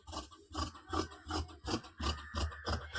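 Scissors cut through lining fabric for a blouse piece, close and rhythmic, with repeated rasping snips every half second or so and no talking.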